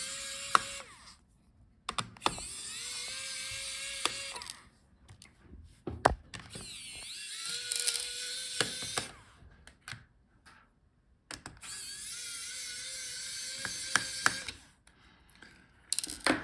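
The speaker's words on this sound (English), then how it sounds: "So unscrew all the screws." Screws being unscrewed from a Lenovo Legion Pro 5 16ARX8 laptop during a teardown, heard as repeated bursts of small mechanical whirring and clicking from a nearby screwdriver, separated by short quiet pauses.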